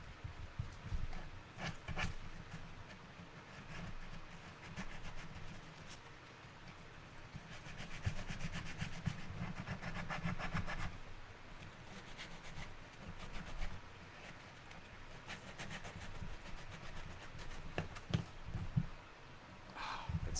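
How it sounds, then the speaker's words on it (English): A prop piece is sanded smooth by hand: close, continuous rasping strokes of abrasive rubbing back and forth for about twenty seconds, louder in the middle stretch, with no talking. "I don't want to cut it off. I want to sand it."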